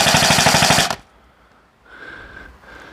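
An airsoft AEG fires a rapid full-auto burst through a chronograph, a loud, even buzz of shots lasting about a second, followed by quiet and a faint electronic beep.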